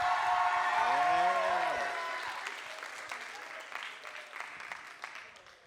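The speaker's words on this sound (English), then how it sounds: "Can we get another round of applause for Brother Rashad?" A crowd at a student leadership conference gives a full round of applause for a speaker, dense and loud at first, then thinning and tapering off, while a voice talks early on.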